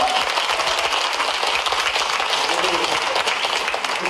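Dense, sustained applause from an audience at a Korean political talk event fills the space loudly and evenly, with mixed voices faintly underneath throughout.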